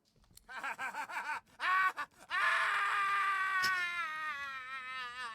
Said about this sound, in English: And what was once laughter is now an anguished scream.